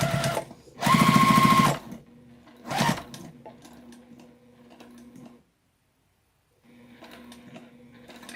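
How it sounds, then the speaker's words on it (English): A sewing machine back stitches on a tote pocket seam in two short loud bursts, followed by quieter ticking and a low hum that fades to silence and then resumes faintly. "So I'm going to start back a little bit, right on this seam, back stitch, and turn and go up this side."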